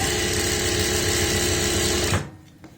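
Sewing machine stitching piping on a kurti, a fast, even mechanical whir running close and loud for about two seconds before stopping abruptly.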